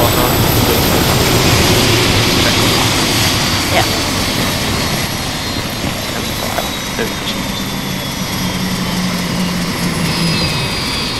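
Aircraft engine droning continuously in the ArmA 2 military video game, a loud steady whine and rumble throughout, with someone speaking briefly over it.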